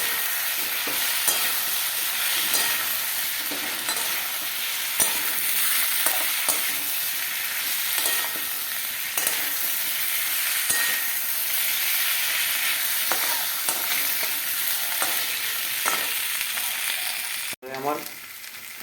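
Ginger and turmeric fry in a pan with a constant close sizzle and hiss, broken by the regular scrape and knock of stirring; a short clunk comes just before the end.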